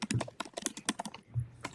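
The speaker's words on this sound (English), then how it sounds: "See lots of typing going on." Several players in an online fandom quiz game type answers on computer keyboards, giving quick, irregular clusters of soft key clicks close to the microphone, with a brief pause midway.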